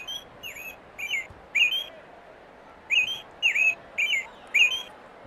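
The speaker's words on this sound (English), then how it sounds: "I have a stuffed animal of a bird that has an orange belly currently in my hand. And it makes noise." A stuffed toy bird with an orange belly gives out bursts of electronic chirping and tweeting, clear and fairly close, in short repeated phrases separated by brief pauses.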